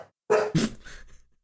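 A dog named Ketchup makes two short, close vocal bursts, a sharp huff followed by a brief whining yelp, and then goes quiet.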